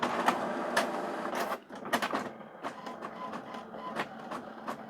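An old printer runs a test print after a deep clean, giving sharp mechanical clacks and whirring bursts of its carriage and feed, with a brief pause midway and no talk.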